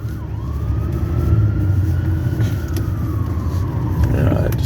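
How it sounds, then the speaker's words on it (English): An ambulance siren passing through Milwaukee streets, its wail sweeping slowly up and down over steady traffic rumble. "every time you go on a video, I hear ambulance"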